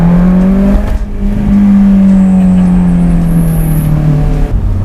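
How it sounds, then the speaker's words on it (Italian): A naturally aspirated Ferrari California engine revving and howling at high rpm, a loud sustained wail that rises and settles with a strong steady tone, heard close. "soprattutto quando c'è un motore aspirato che urla così."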